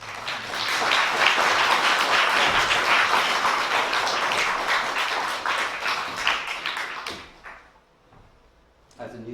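Audience applause for poet Louis MacNeice at a live reading, a loud, dense, sustained clapping that swells then fades away near the end.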